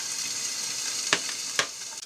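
Yellowtail fish frying in a lid-covered pan, a steady soft sizzle holding throughout with two brief sharper spits or pops near the end.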